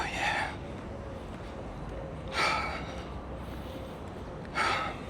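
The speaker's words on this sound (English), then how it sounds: "Sorry for the breathing" Heavy breathing directly into a small handheld DJI Pocket camera microphone, three loud breathy puffs spaced a couple of seconds apart over a hissy, windy background, with no speech.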